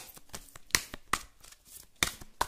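Tarot cards are shuffled close by in a series of crisp riffling bursts and sharp snaps, irregular in rhythm, with soft rustling between them and no talking.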